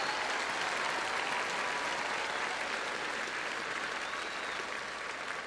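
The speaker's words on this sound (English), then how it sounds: "If I could have a round of applause for all of their accomplishments." A high school graduation audience applauds, a dense, continuous wash of clapping from a large crowd that holds steady for the whole stretch without pause.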